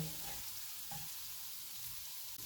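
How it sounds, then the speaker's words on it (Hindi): Chopped garlic and ginger fry in hot oil on medium-low heat, giving a soft, continuous sizzle with a few light stirring scrapes, quiet and without any talk. "ऑयल गर्म हो गया, इसमें चॉप किया हुआ 1 टीस्पून लहसुन डालेंगे।"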